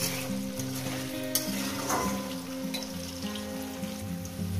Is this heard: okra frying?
yes